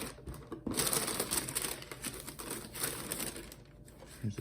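Undefeated wrapping paper inside a Nike Air Max 97 sneaker box crinkles and rustles close by in a continuous, papery crackle for several seconds, with brief pauses and a few sharper crunches.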